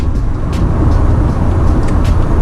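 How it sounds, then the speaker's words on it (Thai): A Honda City Hatchback RS accelerates under throttle while driving, its broad engine and road roar filling the cabin loudly and evenly, with no talk. "ผมไม่เบรกผมเร่งส่งด้วยนะ"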